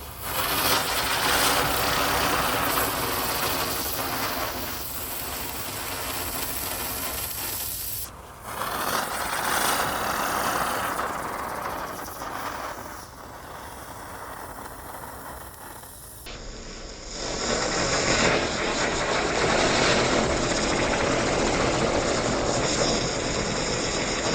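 A small toy helicopter motor whirs steadily and loudly with a rough, buzzing texture, shifting in pitch partway through, with no voices.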